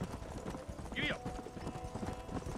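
Horse hooves clip-clop steadily at a run in the Western video game Red Dead Redemption, with a brief whinny-like call near the middle, heard under men's conversation.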